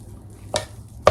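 Courgette cake batter worked by hand in a bowl gives two short, scraping stirs, each a brief burst of spoon against thick mixture, close and fairly quiet with a low hum in between.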